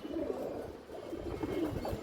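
A large China khaki female pigeon of old bloodline with ring eyes coos softly at a pigeon farm, a few low, rolling coos close by but faint, with no talking.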